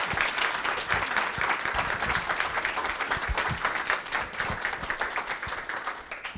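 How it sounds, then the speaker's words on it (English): Sustained round of applause from an audience after a talk, dense clapping with distinct individual hand claps standing out near the front. "a round of applause, please"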